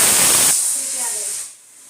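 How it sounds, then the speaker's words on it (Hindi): A loud, sharp hiss of steam from a pressure cooker whistle cuts off abruptly, leaving a softer sputter of escaping water that fades to near silence. "सीटी के साथ पानी भी बाहर आ चुका कुकर में से"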